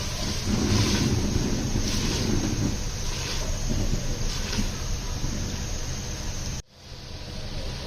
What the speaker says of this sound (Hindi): अब इसको थोड़ा सा हमने 1 मिनट और भूनना है।